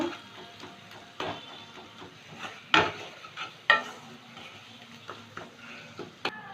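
Turmeric and Kashmiri chili powder are sautéed in a pan: a low, quiet sizzle under repeated sharp clanks and scrapes of a spoon or spatula stirring, several of them loud and close.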